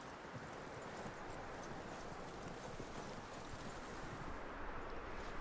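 Steady, dense clip-clop of a horse's hooves in the video game Red Dead Redemption 2, continuous and moderately loud over a wide wash of outdoor ambience, with no talking.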